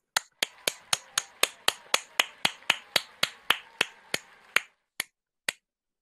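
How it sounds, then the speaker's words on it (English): Steady, evenly spaced claps, about three per second, from a lone participant unmuted during a virtual university graduation. They are crisp and close, continue for nearly five seconds, and end with two isolated claps. "Please unmute yourselves and give yourself a big round of applause."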